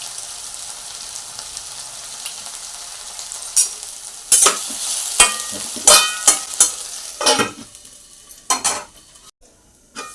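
Potatoes with salt frying in a pan for a fasting khichdi, stirred with a utensil: a steady hiss under sharp, repeated scraping and clinking strokes that come faster and louder in the second half.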